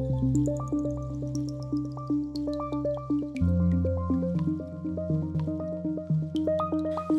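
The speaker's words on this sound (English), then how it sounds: "pour all the flax seeds and remaining mixture into the large cup and proceed to drain the mixture" Flaxseed gel mixture from an electric pot is poured into a large cup and drained, giving a run of close, rhythmic drips and gloopy liquid plops with a faint resonant ring.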